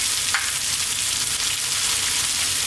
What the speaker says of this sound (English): now we're going to go in with some olive oil. And our tomatoes.